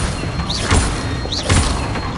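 Two bursts of a fire spell cast in Hogwarts Legacy, each a whooshing flare with a soft low thump, spaced about a second apart over steady game ambience.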